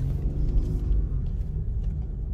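Two Audi A8 3.0 TDI quattro diesel sedans, a 250 CV model and a newer 50 TDI, rev together in a low, steady rumble that stays close and fairly loud throughout, with no voices over it.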